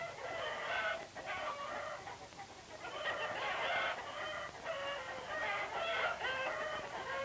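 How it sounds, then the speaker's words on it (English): Hens in a poultry house lit by electric light cluck and a rooster crows in repeated bursts, a dense flock chorus that swells and dips across the stretch with no talk. "an electric light fools the hens into thinking it's still daytime, so they keep right on laying"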